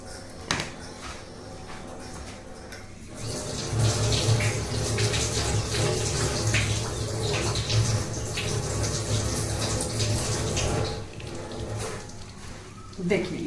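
A household item is washed by hand under a running tap, the splash of flowing water rising and falling with occasional knocks and handling sounds, moderately close and fairly quiet.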